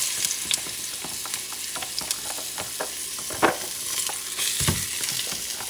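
Onions frying in oil in a pan for Portuguese duck rice, a continuous crackling sizzle broken by clicks and a couple of louder stirring knocks, close and moderately loud, no talk.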